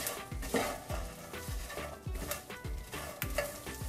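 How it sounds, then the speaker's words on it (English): Spices including red pepper, salt and cumin powder stirred in a pan, with a utensil scraping and knocking in a steady rhythm of strokes over a soft, faint sizzle, close by and without talk. "Fry them just for 2 minutes."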